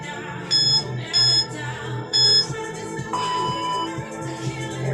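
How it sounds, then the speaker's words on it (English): A workout timer gives its starting signal as three short loud electronic beeps in even rhythm, then one longer tone, close and clear, with no talk over it. "I'm going to start the timer."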